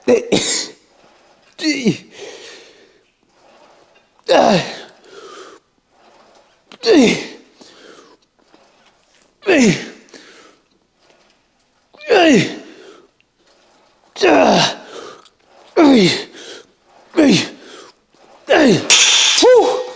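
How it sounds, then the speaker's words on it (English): Strained grunts and heavy, forceful breaths from a lifter doing chest-day partial reps, about eight separate effortful bursts spaced a couple of seconds apart, close and loud, with quiet gaps between. "I hope my breathing and my grunt doesn't sound like some moaning"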